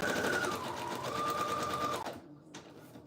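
A sewing machine stitching pages of a junk journal runs loud and steady with a whirring motor, then stops after about two seconds, leaving a faint click and quiet room tone.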